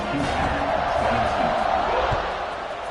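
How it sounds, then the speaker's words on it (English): Large stadium crowd at an American football game before a kickoff in the fourth quarter, a broad sustained roar under a commentator's voice. "this crowd now ready to get behind them"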